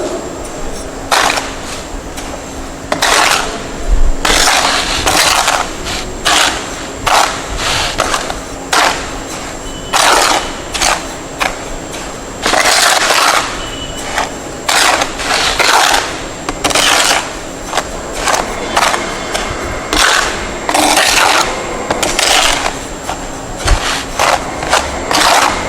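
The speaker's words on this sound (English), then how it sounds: "I am going to dry mix the cement and fine aggregate sample." Cement and fine aggregate dry-mixed by hand for a mortar sample, giving repeated scraping, gritty strokes in an uneven rhythm over about 26 seconds against a steady background hum.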